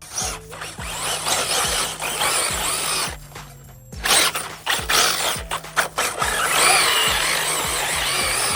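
An Arrma Typhon 6s RC car with an electric motor driving through sand, its whining drivetrain rising and falling in repeated bursts of throttle, loud and close, with gritty spray and clatter between runs and no voices.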